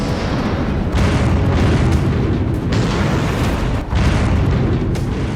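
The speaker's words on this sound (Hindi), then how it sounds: "थर्मोबैरिक बम का धमाका कर दिया।" Thermobaric bomb explosions in wartime Mariupol, Ukraine, heard as a continuous heavy booming roar with dense low rumble and repeated blast surges, loud and without speech.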